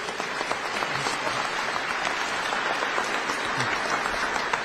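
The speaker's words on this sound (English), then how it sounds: "I say a nice round of applause and a great Northeastern welcome to our Lieutenant Governor, Austin Davis" A crowd applauds in welcome of Lieutenant Governor Austin Davis at a Wilkes-Barre event on gun violence and law enforcement, sustained, even clapping from many hands filling the hall without pause.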